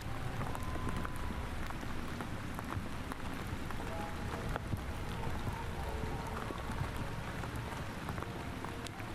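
Steady rain patters across the surfaces of a cloudy outdoor scene in the video game Lake Ridden, a continuous close wash of drops with no voices.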